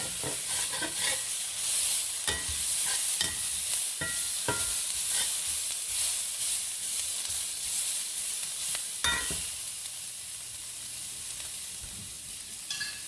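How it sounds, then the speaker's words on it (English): Peppers and onions for shrimp fajitas sizzle loudly and steadily in a hot pan, with a constant bright hiss broken by occasional scrapes from a putty knife used to stir them. "You want a little bit of char on the peppers and the onions anyway."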